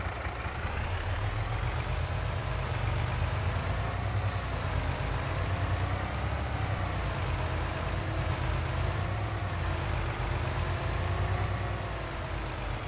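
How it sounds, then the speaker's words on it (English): Truck in Farming Simulator 22 driving onto a field, a continuous loud engine drone with a steady rumble and a brief hiss partway through, with no voices. "Let's just take the truck onto the field"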